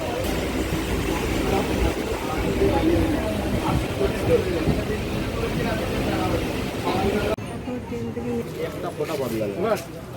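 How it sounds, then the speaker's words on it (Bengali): Steady low rumble and rattle of a moving train, with people talking over it throughout. "দেখো ট্রেন ছেড়ে দিয়েছে"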